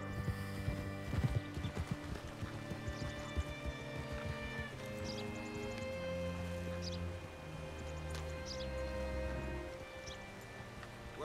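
Rhythmic clip-clop of horse hooves in Red Dead Redemption 2 under sustained synthesized music tones, with a brief whinny-like sound, steady and moderately close.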